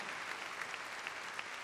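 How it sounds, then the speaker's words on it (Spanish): A church congregation applauds, a dense, even patter of many hands clapping together at a moderate distance, sustained throughout and fairly quiet. "go ahead and give God a hand clap"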